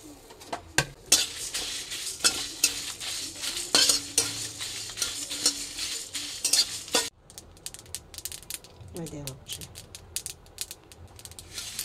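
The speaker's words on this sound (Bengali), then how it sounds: "কত সুন্দর ভাজা হয়ে গেছে," Cumin, mustard seeds, radhuni and bay leaves sizzle and rattle in a dry pan while a utensil scrapes and clicks rhythmically; the frying hiss drops away partway through, leaving scattered scrapes.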